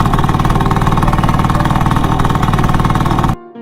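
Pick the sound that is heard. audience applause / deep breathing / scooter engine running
scooter engine running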